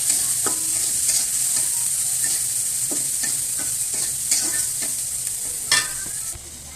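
Stalks of a leafy vegetable and potatoes fry in a pan with steady close sizzling and frequent scraping stir strokes, with no talking.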